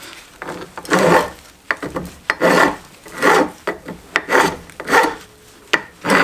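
Repeated rasping strokes of a file or abrasive scraping rust off a seized brake bleeder valve down to bare metal, close and loud, in an uneven back-and-forth rhythm with no talking.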